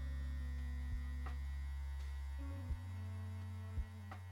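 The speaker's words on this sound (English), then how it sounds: "Using the corner of my clipper." Electric hair clipper buzzing steadily during a drop fade haircut, a constant low mains-like hum with brief clicks and a slight shift in pitch midway as the clipper tilts against the head.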